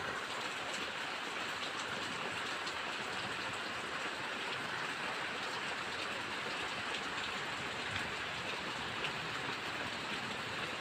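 Heavy rain pours down over flooded fields, a constant dense hiss of drops at low level with no pauses and no voices.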